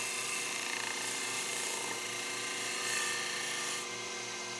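A spindle gouge rides the bevel to cut a bead on wood turning on a lathe, giving a continuous close scraping hiss over the lathe's steady hum, with slight swells in intensity and no speech.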